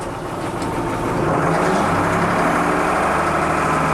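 A backhoe loader's engine rumbling steadily in fourth gear without throttle, a loud, close, continuous low drone that swells slightly after the first second and then holds even, no voices.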